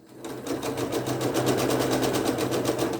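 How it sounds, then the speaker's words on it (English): A sewing machine chain-stitches quilt blocks for a 12-inch block, running in a steady, fast mechanical whir with a rapid needle clatter. It is close and continuous after a brief start. "I'm just going to turn it so I can chain stitch it."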